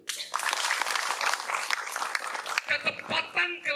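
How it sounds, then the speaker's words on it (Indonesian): A school audience applauds for about two and a half seconds in dense, close clapping, and then a voice talks over the fading claps. "Amin, tepuk tangan dulu."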